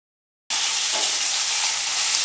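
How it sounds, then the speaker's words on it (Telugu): Onions and ginger garlic paste for chicken aloo hit hot oil and burst into a loud, steady, close sizzle that carries on without pause after a moment of silence, with no talking. "నెక్స్ట్ ఆనియన్స్ ఫ్రై అయినాక జింజర్ గార్లిక్ పేస్ట్ వేసుకోవాలి."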